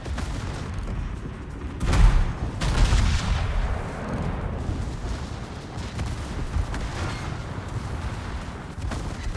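Heavy battleship gunfire booms in a World of Warships naval battle, with a loud salvo thump followed by rumbling distant shots and explosions over a dense continuous battle background.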